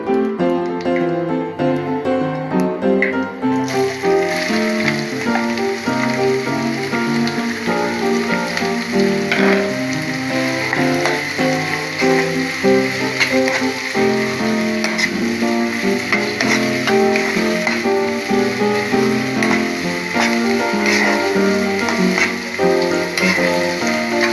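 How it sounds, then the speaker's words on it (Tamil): Onions frying in hot oil in a home kitchen pan, a continuous dense sizzle and crackle that stays steady and close for a long stretch with no talking. "எண்ணெய் சூடு ஏறிடுச்சு। இப்போ வெங்காயம் போட்டுக்கலாம்।"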